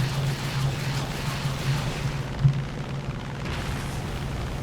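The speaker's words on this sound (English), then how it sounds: "Bombs away." Heavy bomb explosions dropped from an American plane in War Thunder, a low rumbling boom with a brief sharper burst midway, sustained and fairly muffled.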